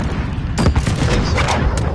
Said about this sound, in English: Allied cluster strike inbound. Danger close.